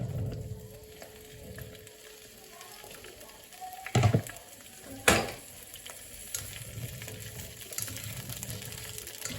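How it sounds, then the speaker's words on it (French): Asparagus stem pieces dropped into a hot wok sizzle steadily, with a couple of sharp clattering stirs in the middle and a continuous frying hiss throughout, close and moderately loud. "je vais attendre que ce soit bien chaud et je vais y plonger mes asperges"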